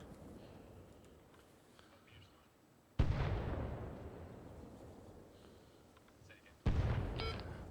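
Arma Reforger video game mortar fire lands twice, each a sudden booming impact followed by a long rumbling decay. Faint talk and radio chatter run quietly between the blasts.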